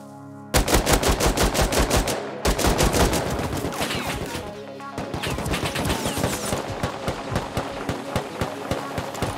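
AK rifle gunfire in the video game Rust, loud close rapid bursts of automatic fire repeating in quick succession with brief pauses between strings.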